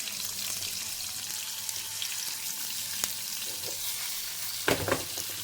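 Squid rava fry crackling in a pan, a steady close sizzle with a brief burst of louder spattering near the end.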